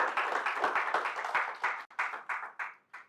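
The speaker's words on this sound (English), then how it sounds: "Yeah, you can clap now." Audience at a CEO retreat investment masterclass in Doha claps in loose, uneven bursts, fairly quiet and thin, with distinct individual hand claps that taper off in separate pulses toward the end.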